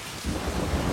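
Heavy rain pours steadily with low rumbling thunder rolling underneath, a dense continuous storm wash that swells after a brief quieter opening, with no voices.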